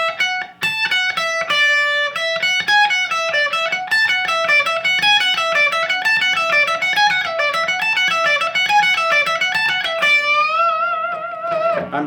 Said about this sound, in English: I'm just doing hammer-ons and pull-offs